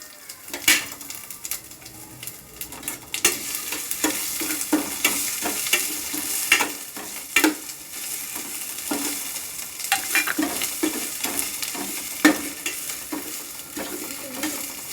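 Crushed garlic sautéing in a pan for a fish curry, a steady sizzle with repeated scrapes and clinks of a spoon stirring, no voices.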